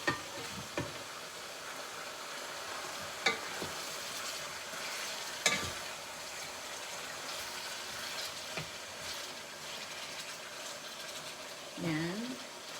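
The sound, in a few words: food frying in a pan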